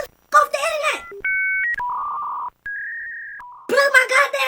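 A voice mimics a dial-up internet modem connecting over a house phone line, giving a quick run of steady, pure beeping tones that change pitch several times, framed by loud speech on either side.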